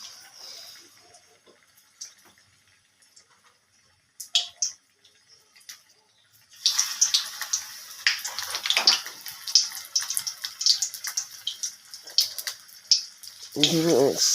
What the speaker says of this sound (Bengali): তেলের মধ্যে দিয়ে ভেজে নিচ্ছি।